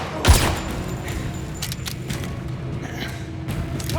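Gunfire erupts in the video game 007 First Light, a sharp close shot at the start followed by scattered distant pops and thuds over a steady noisy battle background.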